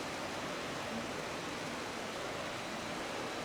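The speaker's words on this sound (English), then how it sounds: "if you listen closely, you can hear the river." An underground river flows beneath a street in Cinque Terre, heard as a constant, even rushing hiss of water at moderate level with no talking.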